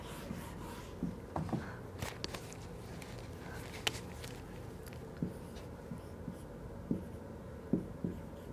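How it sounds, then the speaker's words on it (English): Pen or marker writing on a surface while a math problem on factoring trinomials is worked out, irregular scratchy strokes with soft taps in quiet surroundings and no talking. "This time I'm going to write down the steps as I go."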